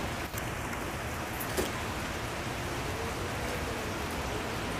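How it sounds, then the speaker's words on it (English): Heavy rain pours down outside a smart home in a dense, unbroken hiss, loud and steady throughout with no pauses and no voices. "until it rains like this"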